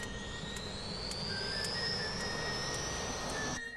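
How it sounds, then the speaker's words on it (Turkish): A cartoon helicopter lifts off in a continuous loud whine that climbs steadily in pitch, with faint rhythmic blade ticks, and then cuts off abruptly near the end. "O hayvan helikopterle kaçıyor."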